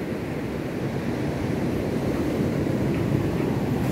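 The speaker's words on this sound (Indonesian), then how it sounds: "Lihat ombaknya masih sangat besar sekali." Large waves crashing and rushing at Serang beach during a high tide, a constant loud roar of surf mixed with wind buffeting the microphone.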